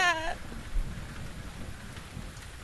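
Steady rain pours down outdoors in The Invisible Hours, a dense wash of patter that holds at an even level throughout, with a brief voice at the very start.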